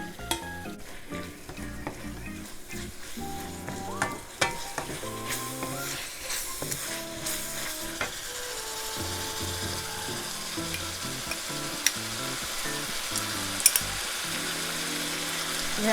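Shredded pork with green chili pepper stir-fried in a hot pan: steady sizzling with repeated scraping and tossing strokes of a spatula, close and continuous, growing denser toward the end, with no speech.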